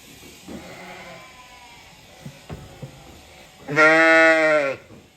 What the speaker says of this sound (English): So Mary's our very old sheep.